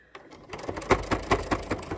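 A sewing machine stitches through face-mask fabric in quick bursts of rhythmic mechanical clatter, close and clear, starting after a short pause and running steadily to the end.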